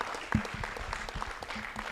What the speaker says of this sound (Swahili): Put our hands together, ladies and gentlemen, as I welcome this gentleman